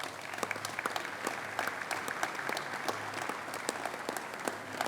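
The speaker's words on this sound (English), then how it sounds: "Let's give them a round of applause." An audience at a university athletics announcement for UIC claps steadily, a soft, even round of applause with individual claps audible, heard somewhat distant and continuous throughout.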